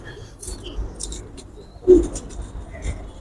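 A female Kasuri pigeon gives soft, low coos, a few brief calls close by with a louder one midway, over quiet background noise.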